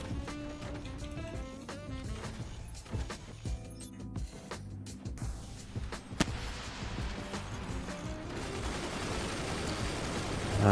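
Artillery pieces fire in the physics-based fort-building strategy game Forts, a rapid barrage of sharp cracks and booming shots scattered over about ten seconds against steady mechanical game noise that swells toward the end.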